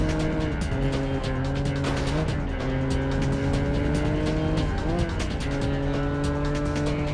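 A car drives with a steady engine drone and tire squeals in the James Bond 007: Agent Under Fire video game, loud and continuous throughout.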